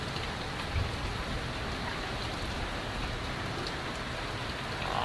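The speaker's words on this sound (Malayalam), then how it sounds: "ഇടിയോട് കൂടിയ പെരുമഴയാണ് കേസ്" Steady, heavy rain pours without a break on an Oman morning as a dense, even hiss that stays close and constant throughout; no distinct thunder rumble stands out.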